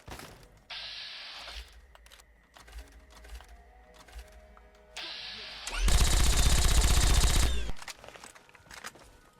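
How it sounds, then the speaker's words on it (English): In Fallout 3, the Vengeance Gatling laser fires in rapid buzzing bursts, a short spin-up burst followed by a longer, loud sustained volley, with game effects and ambience between them and no talking. "the fact that I can just take them out with the Vengeance Gatling laser"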